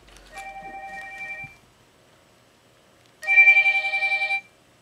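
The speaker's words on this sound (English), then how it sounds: "It's my phone, of course." A phone rings with two bursts of an electronic tone: a softer pulsing stretch, a short pause, then a louder, brighter ring that cuts off abruptly. The sound is close and clear, with no talk over it.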